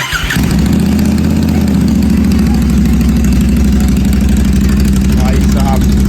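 Royal Enfield GT 650 motorcycle with its exhaust removed, starting up and then running at a loud, steady, throbbing idle close by, with voices talking over it.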